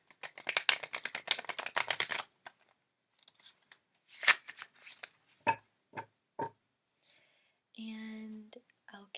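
Tarot cards riffle in a rapid, crisp flutter at close range, followed by scattered taps, slaps and soft handling sounds as the deck is laid down, with a short hum near the end.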